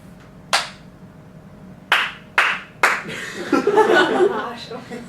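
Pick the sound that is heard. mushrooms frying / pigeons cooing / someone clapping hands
someone clapping hands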